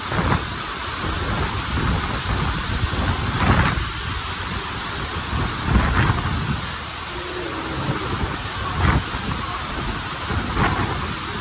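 Steady, heavy rain pours down while several low rolls of thunder rumble through it at intervals, with no voices over the constant downpour.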